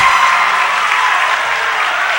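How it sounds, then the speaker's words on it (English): A loud basketball crowd in a high school gym after missed free throws, a thick wall of cheering and clapping that holds steady and close throughout. "The Beck crowd is loud."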